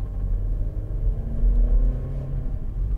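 Steady interior engine rumble from a 2011 Volkswagen Polo 1.4 Match DSG five-door driving along, with a slight swell in revs mid-clip as gears change, continuous and close with no talking.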